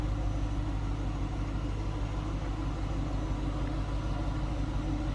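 A 1992 Chevrolet Corvette Coupe engine idles steadily with a low, even rumble, heard from close behind the car with no talking.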